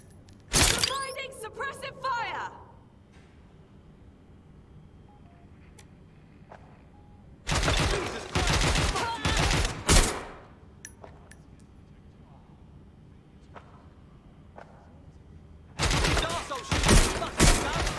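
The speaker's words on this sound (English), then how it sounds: "Suppressive fire!" Suppressive gunfire in Watch Dogs Legion comes in loud bursts of rapid shots separated by quieter stretches, with sharp cracks and impacts close by and voices shouting between volleys.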